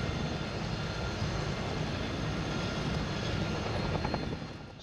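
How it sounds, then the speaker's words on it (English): Spanish Army CH-47 Chinook twin-rotor helicopter flying an agility demonstration at an air show, a loud sustained rotor and engine roar that holds steady and then eases slightly at the end. "And here is the CH-47 the troops jumped from. It performed a short demonstration showing off its agility despite its considerable size."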